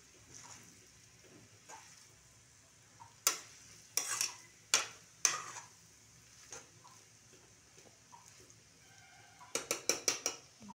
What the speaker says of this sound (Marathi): नूडल्स परतल्यानंतर सॉसेस घालायचे, नाहीतर भाज्यांचे कलर लाईट होतात. चांगलं परतून घ्यायचं.